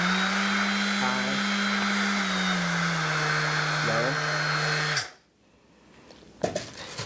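A Dewalt 20V Max brushless random orbital sander runs on high with a loud, steady motor whine and a couple of brief pitch wobbles, then cuts off abruptly and is followed by faint clicks and handling noise.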